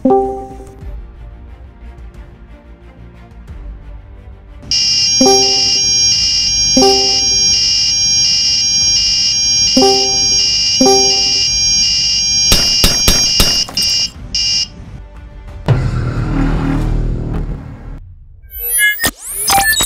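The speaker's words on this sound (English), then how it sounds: "you are looking for a smoke detection alarm" An Arduino-built smoke detection alarm sounds loudly and steadily with a shrill continuous electronic tone. Repeated beeps come before it, and a burst of noise and clicks follows near the end.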